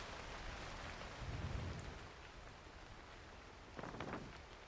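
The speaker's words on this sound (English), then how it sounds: "and now it's raining." Steady broadband hiss of rain pouring in the mountain-climbing video game Cairn, continuous throughout with a couple of brief low swells and a clattering burst near the end, no talking.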